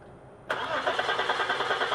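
Audi A4 engine cranking during a no-start fuel pump test, the starter suddenly kicking in after a quiet half second and then churning in a steady rapid whir, close up.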